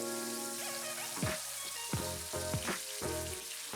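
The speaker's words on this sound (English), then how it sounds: "Then add the butter and fry for another 5 minutes on all sides on a medium heat" Pork chops fry in butter over medium heat, a steady close sizzle with crackling bursts and spatters, and a few sharp pops and scrapes as the pan is worked.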